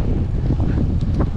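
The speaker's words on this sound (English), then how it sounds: "Headwind" Strong headwind buffeting a microphone during a long road bike ride, a loud, close, low roaring rumble that fills the whole short moment with no speech.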